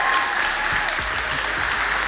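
Dense audience applause for a singer fills a live Q&A at the British Music Experience in Liverpool, a steady wash of many hands at fairly close range.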